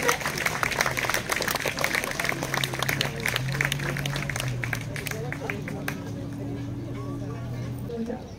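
Audience applause for a Simca Week-end cabriolet at a Simca club concours d'élégance, steady dense clapping from a crowd for several seconds with low crowd murmur beneath.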